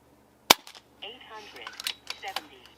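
A single sharp, close crack from a JTS Airacuda Max .177 air rifle being fired, followed by a person talking.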